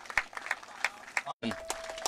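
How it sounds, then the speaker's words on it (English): A small crowd at a high school baseball game gives scattered, sparse hand claps for a coach's 300th win, a few distinct claps spaced out under a nearby voice. "Giving Coach Feltner a nice round of applause here for his 300th win."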